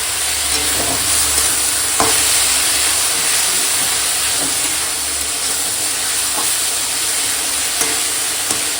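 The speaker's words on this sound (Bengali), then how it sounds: "এখন এই কেটে রাখা সবজি শাক দিয়ে দেবো স্বাদ মতো লবণ দিয়ে দেবো হলদি পাউডার দিয়ে এখন সবজি শাকটা রান্না করে নেব" Chopped water spinach greens fry in a pan with salt and turmeric powder, giving a loud, steady sizzle and hiss broken by occasional stirring scrapes. No voices are heard.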